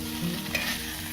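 Fresh curry leaves dropped into a frying prawn roast, a brief close sizzle with a quick stir and a small crackle.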